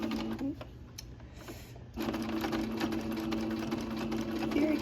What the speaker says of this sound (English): So I'm gonna sew right to this.